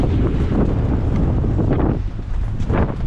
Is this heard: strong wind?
yes